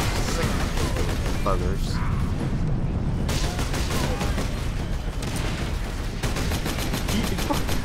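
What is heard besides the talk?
gunfire in the video game Space Marine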